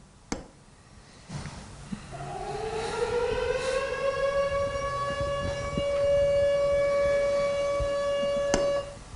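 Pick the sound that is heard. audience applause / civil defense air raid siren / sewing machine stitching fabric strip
civil defense air raid siren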